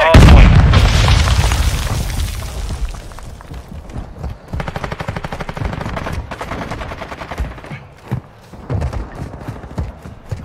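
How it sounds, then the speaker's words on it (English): A grenade blast in a multiplayer shooter opens with a loud, heavy boom that rumbles and fades over a few seconds, followed by scattered distant gunshots and thuds. "Throwing grenade!"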